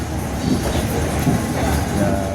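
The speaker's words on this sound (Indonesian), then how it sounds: "kita papasan sama Gajayan pas banget gitu kan ya" The Gajayana passenger train rushes past another train in Indonesia, producing a loud, steady roar of wheels and wind with faint rhythmic clatter throughout.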